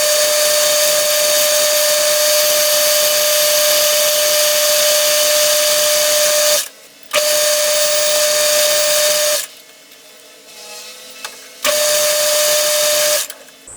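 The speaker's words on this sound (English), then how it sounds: "So I'm just going to clean up this space here and I'll do the chamfer." Chamfer being machined on a Stuart Turner No. 8 mill engine part, a steady high whining tone with constant hiss that runs loud and unbroken, cutting out briefly twice before resuming.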